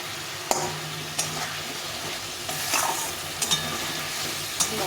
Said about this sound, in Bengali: মশলার সঙ্গে আলু আর টমেটোটা সুন্দরভাবে কষানো হয়ে গেছে